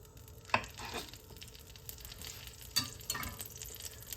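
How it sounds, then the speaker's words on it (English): Butter sizzles and crackles steadily in a hot skillet over slightly too-high heat, with a couple of sharper pops and light scraping. "Sizzling pretty fast."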